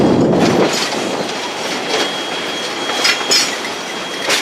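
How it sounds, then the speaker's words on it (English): A train rolling past near a redwood forest, with close rail clatter, metallic wheel squeal and a sustained high tone, plus rhythmic clicks that grow louder toward the end. "passing near the train"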